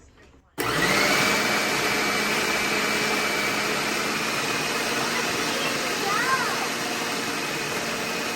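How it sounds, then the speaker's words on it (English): An electric hand mixer churns butter cookie dough for jam thumbprint cookies, a loud steady motor whine that starts abruptly after a moment of quiet and runs continuously up close, shifting slightly as the beaters move through the dough. "for this part, we're going to do the mix because we just want to mix this together"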